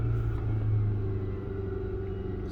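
A Kia Optima engine is revved and held steady around 2000 RPM, a close, continuous low rumble that settles after an initial surge.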